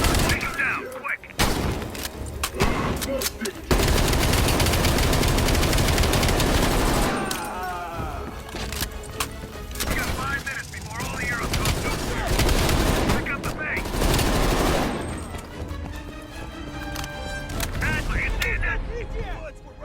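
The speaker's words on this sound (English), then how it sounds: "Heavy MG on the ridge." Heavy machine gun fire rattles in dense, sustained bursts in the Call of Duty: Black Ops Cold War video game, loud and close, with a few short breaks and booming impacts mixed in, while voices speak over the battle.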